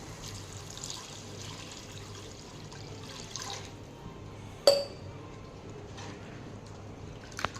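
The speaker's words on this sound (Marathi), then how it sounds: "यामध्ये मी आता एक लोटा पाणी घालून घेणार आहे" Water is poured from a small metal pot into a simmering pan of chiur wild greens being cooked for a besan dish. It makes a soft, even rushing sound, and one sharp metallic clink lands partway through.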